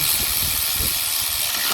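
Opel Astra C diesel engine (2009) idling after being started, a steady low rumble with broadband hiss, close and loud throughout, no talking.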